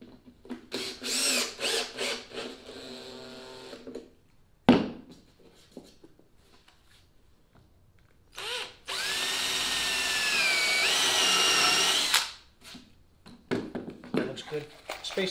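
Power drill driving number 10, inch-and-a-quarter stainless steel screws into a plywood boat, a sustained whirring run of a few seconds between stretches of talk.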